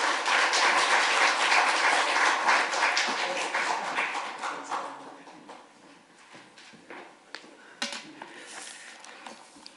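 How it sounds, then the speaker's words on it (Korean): A congregation at a Korean church service in Southern California claps in encouragement for the pastor, loud and dense at first, then thinning over several seconds into scattered, faint claps and taps. "우리 목사님 사랑하는 마음으로 우리 격려 박수 올려드리겠습니다"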